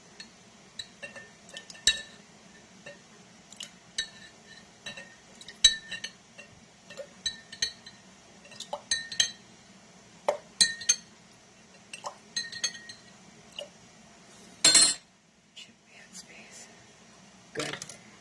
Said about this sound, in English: I'm going to scoop off a little bit